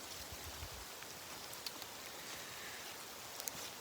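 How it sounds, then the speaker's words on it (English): Steady, soft rain or hail falling among trees, an even hiss with occasional faint drop ticks throughout, quiet and with no one talking. "hailing, raining, whatever label we want to give it, it's happening."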